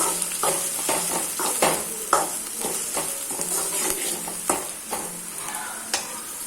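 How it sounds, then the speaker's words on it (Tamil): Chopped onions with cardamom, cloves and star anise sizzle steadily in a pan while a spoon stirs them in close, rhythmic scrapes over the constant frying hiss. "நாலு மீடியம் சைஸ் வெங்காயம் கட் பண்ணியிருக்கேன் இதை நல்லா வதக்கி விட்டுக்கலாம்"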